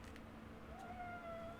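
A cat gives a drawn-out meow, a faint rising and sustained cry heard in the second half against a quiet indoor background, with no talk over it.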